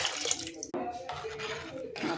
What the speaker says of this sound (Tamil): தண்ணி ஊற்றிக்கிறேங்க.